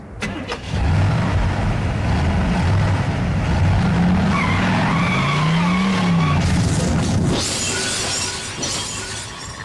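In The Blobjob video game, a car engine cranks to life and revs as the car drives off. The sound is loud and continuous, with rising and falling engine tones and tire noise, then fades out.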